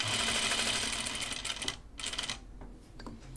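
A sewing machine runs steadily for about a second and a half while stitching a pocket onto a shirt dress, then slows to a few slower, hand-cranked stitches toward the corner.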